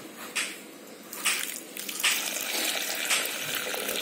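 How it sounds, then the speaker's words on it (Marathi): Sprouted legumes are rubbed by hand in water while being washed for Kolhapuri misal, giving close sloshing, squishing splashes with several louder swishes over a continuous watery wash. "हे मोड आलेले कडधान्य आपण पाणी टाकून हलक्या हाताने चोळून 2 वेळा धुवून घ्यायचं आहे"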